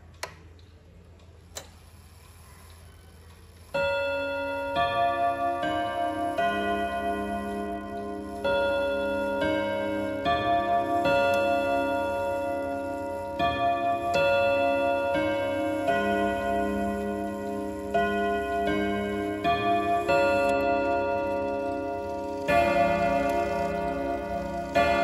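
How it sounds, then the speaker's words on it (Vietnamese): An Odo 57 wall clock with a bright gold case ticks steadily and then plays a long chiming melody, its ringing tones layered and sustained, close and clear, with no talking. "mời các bác cùng thưởng thức âm thanh tiếng chuông của chiếc đồng hồ Odo 57 này"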